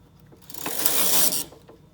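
A knitting machine carriage sweeps across one row of fern lace trim, a single mechanical whirring pass with ratcheting clicks that swells and fades over about a second, alone with no talk.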